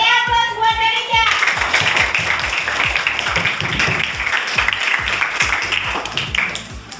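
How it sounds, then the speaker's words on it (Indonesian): Classroom applause for a student, a crowd of children clapping continuously and loudly for several seconds after a brief lead-in of voices and background sound. "Beri aplaus buat Marisha."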